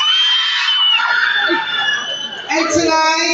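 A pageant audience shouts, whoops and cheers loudly and continuously for a few seconds, a dense wall of crowd voices with high screams, swelling again near the end.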